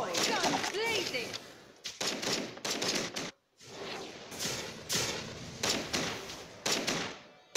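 Rapid bursts of video game gunfire from a turret-style battle in Legend of Ace, loud and close, in repeated volleys with brief gaps between them.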